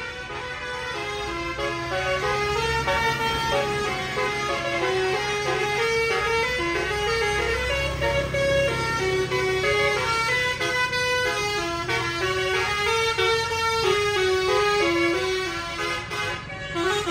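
Telolet musical horns on Basuri buses play rapid, melodic tooting phrases, loud and close, continuing for many seconds over the rumble of traffic.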